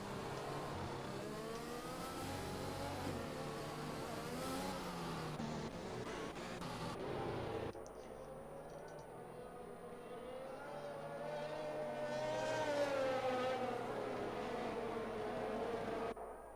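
Race cars racing at the Hungary circuit in a racing video game, engines whining and rising and falling in pitch as cars pass, continuous with a sharp drop partway through.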